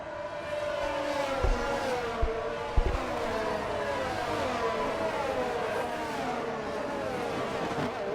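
Race cars from the F1 2022 video game at Miami on a formation lap, a steady layered engine drone of several cars with shifting pitch and a few low thumps, continuous throughout.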